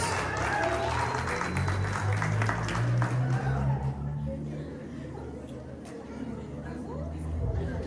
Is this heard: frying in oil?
no